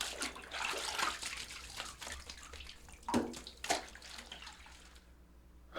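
Bath water splashes and sloshes in a tub, with irregular nearby swishes and a couple of sharper splashes before the sound settles into near quiet.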